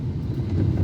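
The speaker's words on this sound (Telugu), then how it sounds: "మా మెట్రో" A Bengaluru metro train rumbles past close by, a steady low heavy rolling drone with no voices, during heavy rain in the city.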